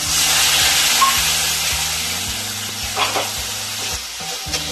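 Spices and soaked chickpeas sizzle and fry steadily in a pan for a Bengali mochar ghonto, with a few scraping stirs near the end and no talk.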